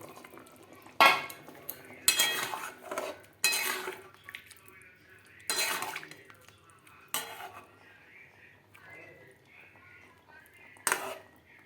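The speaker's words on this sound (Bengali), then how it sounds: "আলুটা আধা সেদ্ধ হয়েছে, এবার আমি ডিমগুলো দিয়ে দেবো।" Duck eggs go into a pot of potato curry with new potatoes: a handful of sharp clinks and knocks against the pot, spaced a second or two apart, with quieter handling noise between them.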